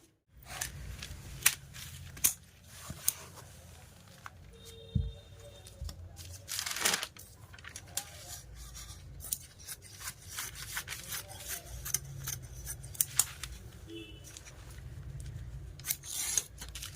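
Scissors snipping through lahenga fabric panels (kali pieces) at a boutique cutting table, a steady run of close, crisp cuts and crinkling cloth with occasional louder snips and rustles.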